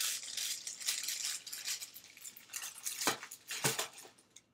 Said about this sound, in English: I'm going to stir a little bit